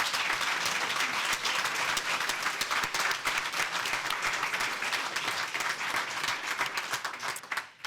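Applause from the audience at a CFDT-Services federal national council in Paris, a steady, even wash of many hands clapping throughout, heard at a moderate distance with no talk over it.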